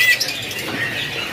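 A brief, high chirping call from a caged bird close by at a bird market kiosk, a couple of sharp notes over faint background hiss.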